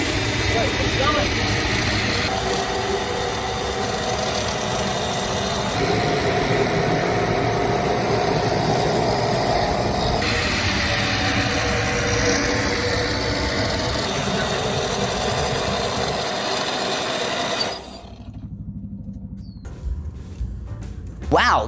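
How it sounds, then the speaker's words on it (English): A homemade jet engine built from a water bottle roars with a loud, steady broadband rush for about eighteen seconds, then cuts out abruptly and leaves quieter rustling. "I'm very happy with the jet engine."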